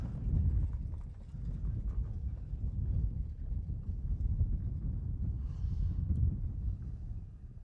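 Harness racing horses trot past at Humboldt, Iowa, their hooves clip-clopping in a steady, continuous low rhythm with wind rumbling over the microphone throughout.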